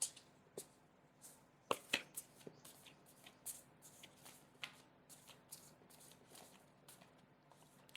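Tarot cards being shuffled, a close, quiet run of crisp riffling snaps and flicks in an irregular rhythm, with a couple of sharper slaps partway through and no talking.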